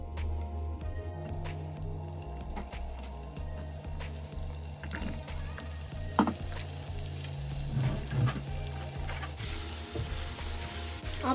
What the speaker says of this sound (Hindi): तो पटेटोज को फ्राई कर लेंगे सबसे पहले।